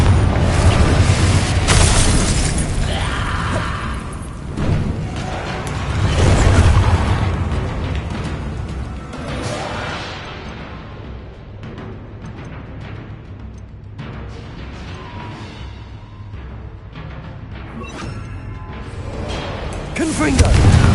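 Heavy booming blasts from the Confringo blasting spell in Hogwarts Legacy gameplay, loud explosions with whooshing bursts swelling and fading over game sound, with a voice calling out spells.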